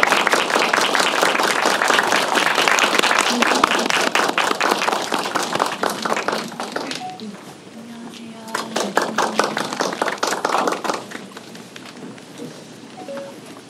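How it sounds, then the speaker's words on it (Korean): Applause and clapping from a film-screening audience greeting an actress at a Q&A event, dense and loud at first, then thinning into scattered claps with some voices mixed in. "오늘의 주인공인 전손희 배우를 큰 박수로 맞이해 보도록 하겠습니다"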